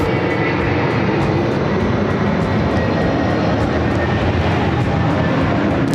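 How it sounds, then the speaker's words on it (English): An Airbus A380 airliner, Korean Air flight from Seoul, landing on an airport's north side, its engines producing a steady, loud broadband roar that holds evenly throughout with no talk. "That is an A380 coming in from Seoul, Korean Air Flight 11, arriving on the north side."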